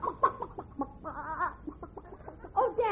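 A comedy radio show uses a sound effect of chickens clucking in a busy, overlapping flurry of squawks and clucks, close and fairly loud, with no speech over it.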